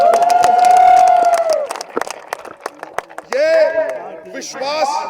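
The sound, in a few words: rally crowd applauding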